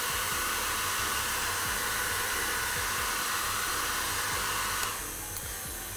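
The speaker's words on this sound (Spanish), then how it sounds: "Utilizamos el secador de cabello por dos motivos." A hair dryer blows steadily and loudly onto buttercream being beaten at low speed in a mixer, a continuous airy roar with faint mixer rumble beneath that shifts and softens slightly near the end.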